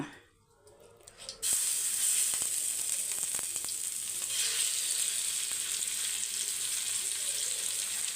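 Loud, steady sizzling of marinated fish frying on a hot griddle begins abruptly after a quiet moment and continues with a constant hiss and occasional pops.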